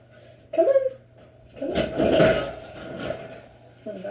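A dog whimpers and whines indoors, a short high whine followed by a longer, louder strained cry that tails off, heard close with no talking.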